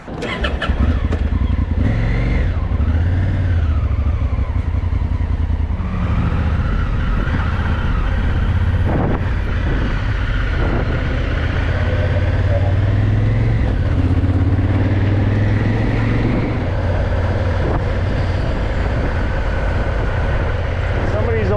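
A 1974 Cadillac Eldorado driving on a suburban road in Trenton, New Jersey, on a gloomy day, giving a steady low engine drone and road rumble from inside the car, with brief shifts in pitch as it accelerates.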